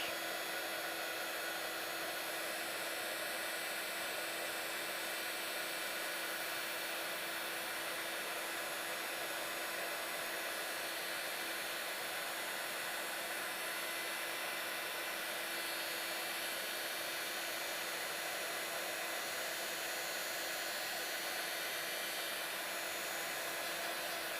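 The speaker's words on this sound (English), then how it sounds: "we're going to hold that heat gun still, and then as soon as that embossing powder starts to melt and change" A heat gun blows steadily to melt embossing powder on a card, a continuous airy whooshing hum with a constant tone that holds unchanged throughout.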